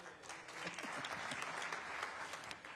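An indoor audience at a Conservative Party conference claps in a steady, dense wash of applause that continues without a break throughout.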